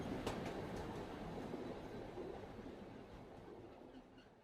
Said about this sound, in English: This describes the first 7 minutes of a 7-hour train ride across the country of Norway.